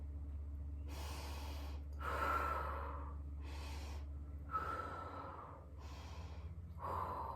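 A person breathes deeply during a twisting stretch, slow audible inhales and exhales alternating in a steady rhythm of about five breaths, close and clear over a low steady hum.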